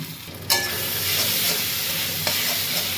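Onion sautéing with ginger, garlic and green chilli paste for a mutton curry, giving a steady close sizzle and fry hiss with a couple of spoon stirs clacking against the pan, no talk.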